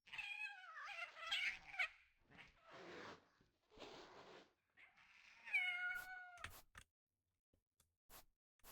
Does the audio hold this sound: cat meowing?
yes